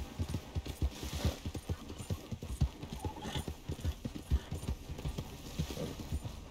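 Horse hooves gallop in a fast, steady clip-clop rhythm in Red Dead Redemption 2, close and continuous across the whole stretch, with a faint game ambience underneath.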